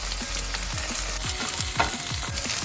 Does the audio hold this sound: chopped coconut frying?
yes